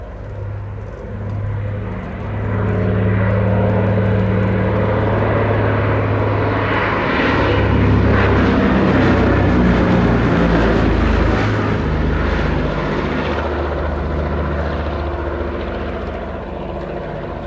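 A Consolidated PBY-5A Catalina flying boat drones loudly and steadily overhead during an air show display, its engine roar swelling and holding with a rough, throbbing tone throughout.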